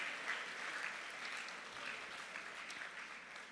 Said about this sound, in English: Can we please give them a big round of applause for joining us today?